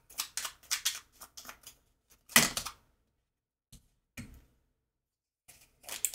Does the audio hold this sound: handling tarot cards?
yes